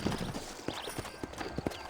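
Horse hooves clip-clop in the Western video game Red Dead Redemption, a quick irregular series of close, crisp hoof knocks with a brief voice at the start.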